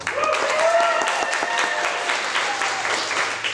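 An audience at an arts event breaks into a round of applause, sustained clapping close and fairly loud, with a voice briefly audible over it.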